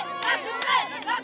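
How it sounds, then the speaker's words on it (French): A young crowd cheering and shouting for Didier, excited voices rising in several bursts over a brief moment, close and lively. "Le public venu en masse aujourd'hui applaudir Didier est jeune."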